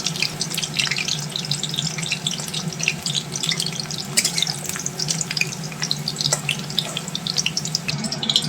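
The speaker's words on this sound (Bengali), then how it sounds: "ওই তেলেই এই যে আলুগুলো কেটে রেখে ওগুলো এখানে আলুগুলো ভেজে নিচ্ছি" Cut potatoes fry in the oil left after frying squash, a dense, steady sizzle and crackle that stays loud and close without pause.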